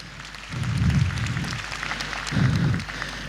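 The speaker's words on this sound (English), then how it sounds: "Let's give him a round of applause" Applause at a formal agricultural conference ceremony, a faint, distant spread of clapping under a low hum, swelling twice in soft bursts over a few seconds.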